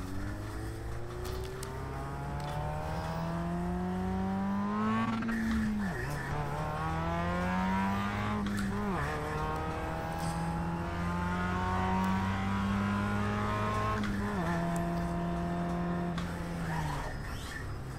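A Mazda race car at Le Mans in the iRacing sim, its engine droning steadily and revving up through repeated gear shifts with brief dips between pulls, loud and close with no talking.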